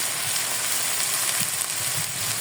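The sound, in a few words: stirring vegetable bhaji frying in a pan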